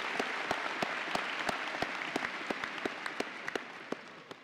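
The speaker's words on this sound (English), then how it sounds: "Go ahead, clap, yeah, they deserve it." Applause for teachers at a high school graduation ceremony: a soft wash of crowd clapping with one nearby pair of hands striking out a steady, distinct rhythm over it.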